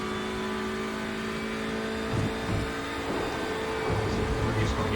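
A TCR touring race car at Spa in the iRacing sim, engine droning steadily and revving as it shifts down a gear, heard under a driver talking over it.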